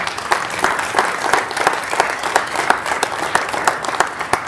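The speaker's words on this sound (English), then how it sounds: "Let's give you a round of applause" Audience applause at a South High School freshman academic ceremony, honoring students as their names are read; steady, dense clapping from a crowd filling the whole stretch without pause.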